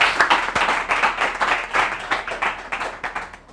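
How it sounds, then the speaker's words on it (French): An audience applauds loudly at a school competition show between two collège teams, a dense, steady patter of many hands clapping close by, swelling in small waves for a few seconds. "On applaudit très fort."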